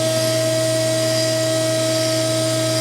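A mandrel bender bending a 1947-1953 Chevy 3100 truck frame rail: a steady, loud hydraulic hum with a fixed whine holds unchanged for a few seconds, with no talking.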